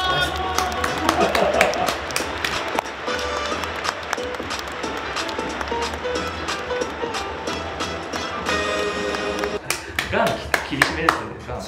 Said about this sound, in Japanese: 今一度大きな拍手をお送りください。